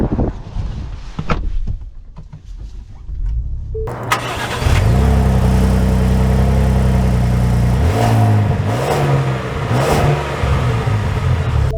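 A 2024 Ford Expedition Timberline SUV starts up, then its engine roars loud and steady as it accelerates while driving, the revs rising and shifting through gears with no talk over it.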